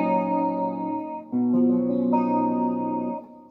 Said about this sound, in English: Let's do a little jamming. On the Ibanez RG6003, tuned down one whole step.